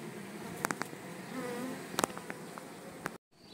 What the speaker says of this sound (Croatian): Odmah pčele to pretražuju.